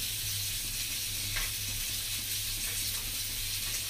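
Bangda (mackerel) fish frying in hot oil on a tava, giving a steady, close sizzle with a constant hiss that holds throughout, no voices.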